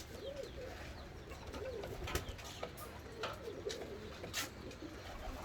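Pigeons cooing softly in a Bursa aviary of Kelebek birds, several low repeated coos over a steady background hiss, with faint wing flutters and chirps; no talk.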